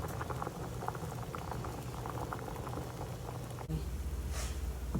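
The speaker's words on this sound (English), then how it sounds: "Let that boil for 3 minutes." Tortellini boiling hard in a pot of water, a steady close bubbling and patter running throughout with no talk, shifting slightly near the end.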